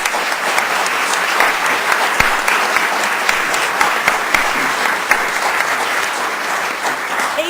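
Loud, sustained applause fills the hall during the 2005 State of the Judiciary Address by Judith S. Kaye, an audience clapping densely and evenly for several seconds.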